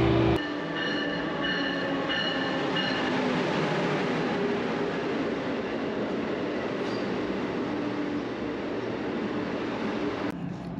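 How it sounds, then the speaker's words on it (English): An Alaska Railroad Glacier Discovery train in Anchorage rumbles close by as it pulls in, a steady loud roar of wheels and engine with faint tonal whines, continuing for the whole stretch with no talk. "our train has pulled up here."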